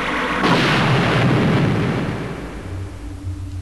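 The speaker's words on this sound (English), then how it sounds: "Explosion." A video game explosion bursts out with a heavy, booming blast, then a rumbling roar that slowly decays over a few seconds, loud and close.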